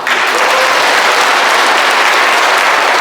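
Audience applause after a lecture: a dense, loud, continuous wash of clapping from a full room, without pause.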